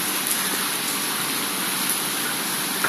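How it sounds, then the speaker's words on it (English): Steady rain falls outside a hotel in Puerto Rico, a dense, even hiss of water on surfaces that holds constant throughout, close and fairly loud with no voices over it. "It's raining today."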